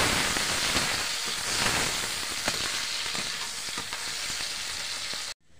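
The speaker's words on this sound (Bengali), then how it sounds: "ভালো ভালো পেঁয়াজ ভাজি দেবো।" Onions frying in a pan for a Bengali country-chicken kosha, a loud, continuous close sizzle with faint stirring scrapes, ending abruptly in silence.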